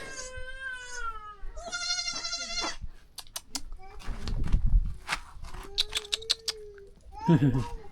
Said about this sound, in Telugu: బుజ్జి బుజ్జి మేకపిల్లలు అండి